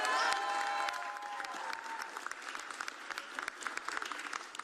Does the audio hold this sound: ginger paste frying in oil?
no